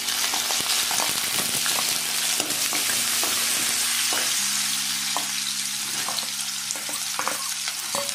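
Ginger and garlic sizzle in a hot pan for pepper chicken, a continuous loud frying hiss with scattered stirring taps throughout and no talk.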